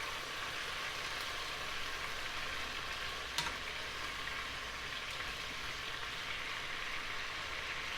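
Chicken pieces fry in caramelized sugar in a pan, a steady, even sizzle with faint stirring as the pieces are turned, and one brief clink partway through.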